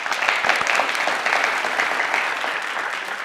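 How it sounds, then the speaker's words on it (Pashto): Steady applause from a studio audience at a televised Pashto quiz show, dense clapping filling the whole stretch at an even level with no talk over it. "په ویاړې چکچکې وکړئ"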